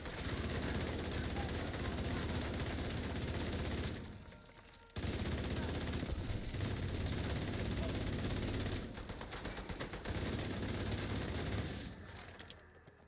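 M4 lightweight rifle fire in a first-person shooter game, with dense sustained bursts of automatic shots nearly filling the stretch, a couple of brief pauses between volleys, and loud near gunfire throughout.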